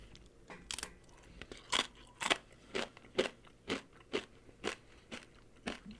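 Close, crisp crunching as someone bites and chews a crispy corn-chip-like Korean snack with kimchi fried rice flavor, a rhythmic series of about a dozen sharp crunches roughly every half second.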